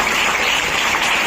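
Enthusiastic audience applause at a one-day women's conference, a dense steady wash of clapping hands filling the space without pause.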